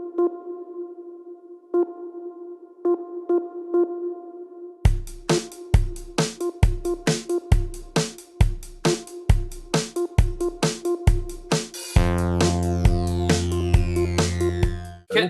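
Electronic beeps pulse in a music track: sparse tones at first, then a steady rhythmic run of sharp beeps, ending in a dense sustained swell.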